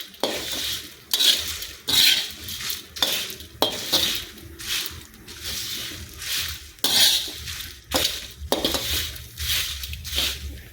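Dry red chillies are lightly roasted in a pan for curry leaf powder. A utensil scrapes and stirs them in repeated rhythmic strokes with soft rattling, close and fairly quiet.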